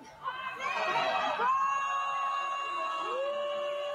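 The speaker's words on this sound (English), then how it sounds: "The crowd is yelling at her to sing" At a live concert, an audience yells and cheers at a singer to sing, a loud mixed crowd swell of shouts and high voices that carries on steadily after the first second.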